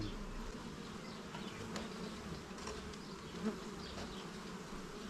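Honey bees buzzing densely over a capped brood frame lifted from the hive, a continuous close hum with soft fluttering texture and no speech.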